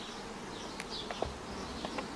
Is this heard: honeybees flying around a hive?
yes